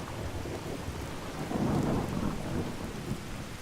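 Video game thunderstorm: steady rain hisses evenly while a low rumble of thunder swells in the middle and fades, loud and enveloping with no voices.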